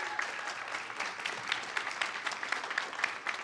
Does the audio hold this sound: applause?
yes